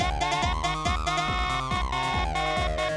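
A dense choral sample, cut into a Sparta remix pattern, stutters in rapid, evenly chopped repeats over a pulsing low end, a steady mechanical rhythm of short slices.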